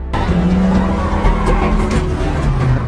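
A car in a James Bond action film chase tears away with tires skidding and squealing, a loud continuous engine roar and screech filling the whole stretch.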